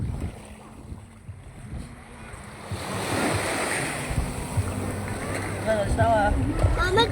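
Sea surf rushes and swells steadily, with wind noise and a voice calling out over the water near the end.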